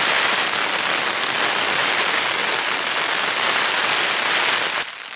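Heavy rain and gusty wind on a stormy day in the West Highlands of Scotland, a dense, loud, continuous hiss of rain that drops slightly just before the end, with no talk.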